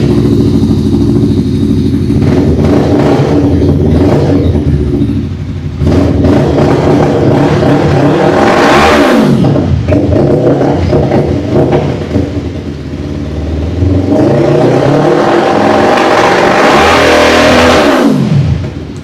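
A heavy cruiser motorcycle engine idles loudly nearby and is revved hard twice, each rise climbing to a roaring peak before settling back to a throbbing idle.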